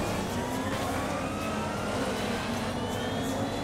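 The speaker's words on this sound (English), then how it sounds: "sounds like a jet engine about to lift off" A vehicle engine in the racing game MotorStorm Pacific Rift roars in a steady, loud, high-pitched drone, almost like a jet engine, with no pauses.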